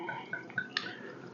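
Charles Goodnight bourbon pours from a corked bottle in a few brief trickles and drips, close and fairly quiet.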